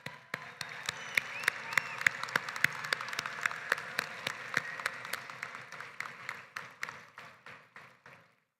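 Applause from a commencement crowd for college staff, administrators and trustees: steady, fairly sparse clapping with a few sharp individual claps standing out, tapering off toward the end.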